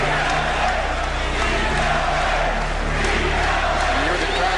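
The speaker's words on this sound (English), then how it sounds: "From the Boston crowd comes a ceaseless pounding chant." A Boston Garden basketball crowd chants "Beat LA" at the 76ers, a steady pounding roar of many voices with rhythmic surges, loud and continuous throughout.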